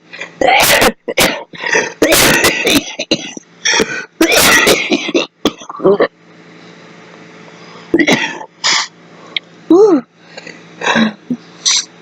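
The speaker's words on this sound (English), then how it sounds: "coughing fits are coming" A person with cystic fibrosis coughs repeatedly in harsh clustered bursts, with a few short vocal sounds between, close to the microphone.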